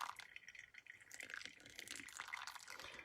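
Water poured from a kettle onto coffee grounds in a V60 dripper, a faint, thin trickling stream with soft splashing that shifts in intensity as the pour continues, quiet and close.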